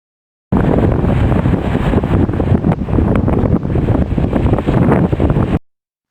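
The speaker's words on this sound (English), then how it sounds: "the wind was very strong and was preventing me from talking as I was painting." Strong coastal wind at Fairlight Head roars and buffets the microphone for several seconds, loud and rumbling, then cuts off abruptly.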